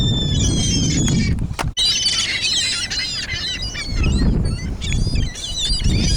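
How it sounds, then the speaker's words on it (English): Seagulls being fed by the seaside squeal and cry close by in overlapping, repeated calls, with flapping and wind noise underneath and a brief break in the middle. "And we are out here feeding the seagulls, Melissa and I, Saturday morning"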